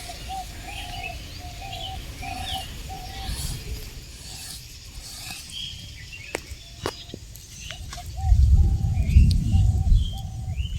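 A bird near a hole in the ground, where a baby bird is found during rain, gives a series of short repeated calls in a steady rhythm. Rustling and handling noises grow louder toward the end.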